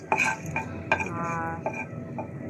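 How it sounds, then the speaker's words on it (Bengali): Whole cinnamon, cardamom, bay leaf and dried chili are stirred in a hot pan, with sharp utensil clinks and scraping over a soft, steady frying sizzle, up close and with nobody talking. "আর এখানে আমি হচ্ছে মশলাগুলো ভেজে নিচ্ছি"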